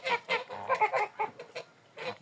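Domestic geese with a gander among them honk and cackle in a run of short, fairly loud calls close by, with brief pauses between bursts.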